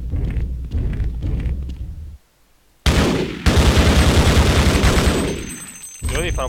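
Gunfire in the video game Half-Life comes as a loud, dense burst of rapid shots lasting a few seconds after a short quiet gap, then trails off. A voice talks briefly before the shots.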